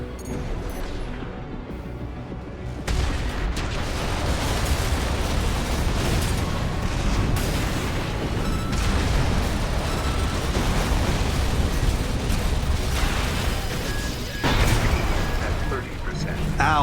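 Explosions in Armored Core VI, heavy booms and rumbling blasts over continuous mech combat noise, with a voice talking over the action.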